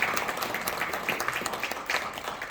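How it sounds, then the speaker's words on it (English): An audience at a women-in-tech event gives a warm, continuous round of applause, steady and moderately loud throughout, with no one speaking over it. "Please give her a warm applause."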